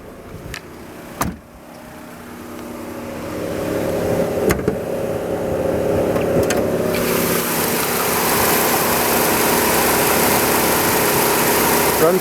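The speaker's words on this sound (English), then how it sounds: "can hear the engine running when I open the hood." A 1998 Ford Escort SE engine idles steadily with the hood open, a low continuous hum that grows fuller and brighter partway through, with a few sharp clicks early on.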